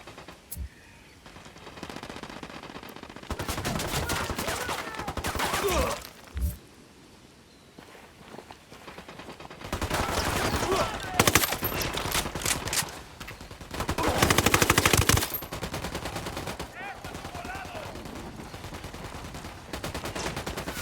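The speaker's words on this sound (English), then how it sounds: "Opening fire on these fuckers." Gunfire in Ghost Recon Wildlands, with several long bursts of automatic fire and scattered shots against quieter gaps, in a tense outdoor firefight.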